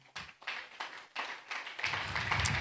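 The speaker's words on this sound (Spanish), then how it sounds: "dele un aplauso al Señor" A church congregation claps in a slow, rhythmic series of sharp strokes, then builds into fuller, denser applause toward the end, moderately close with no talk.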